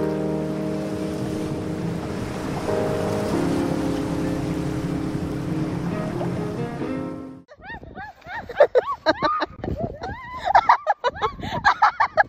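Waves break on a black sand beach in Iceland, giving a loud, broad surging roar and wash that fills the first half, followed by gusty wind buffeting and voices talking.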